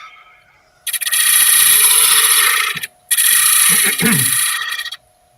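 Woodturning lathe cutting in two loud sustained passes, a harsh, bright ripping scrape with a short pause between, close to the workpiece.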